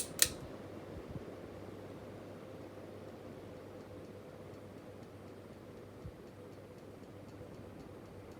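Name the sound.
ceiling fan running on low speed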